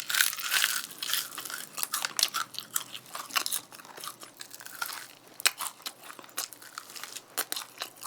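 Loud, close crunching and chewing of crispy fried chicken, half seasoned and half plain, in a Korean mukbang, with irregular crackly bites and rustling and no talk.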